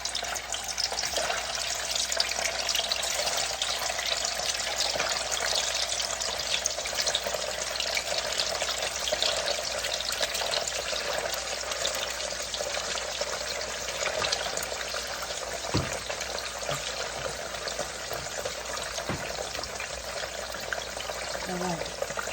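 Ten slices of egg tofu frying in hot oil over medium-high heat give a steady, even sizzle that runs unbroken and fairly close, with a few faint knocks and no talking.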